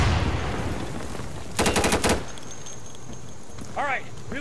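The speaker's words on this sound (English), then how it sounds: "I'm taking fire from the left side" Insurgency in-game gunfire: a short rapid burst of automatic shots in the middle, followed by faint clicks and a brief higher chirp, over a low background rumble.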